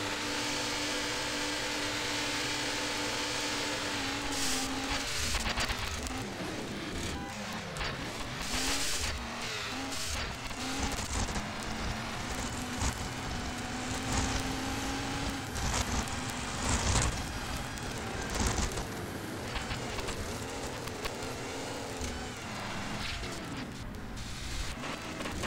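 Off-road SUV with an upgraded engine racing in the 2005 game CRC, its engine droning and revving steadily throughout, with tire squeal and skids breaking through in busier stretches.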